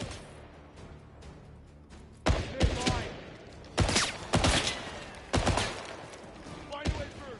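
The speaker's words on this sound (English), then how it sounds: "Hunt's discharging a weapon!" Gunfire from a weapon in a James Bond video game: several loud, sharp shot bursts spaced over several seconds, the reports ringing out over a quieter background of game ambience.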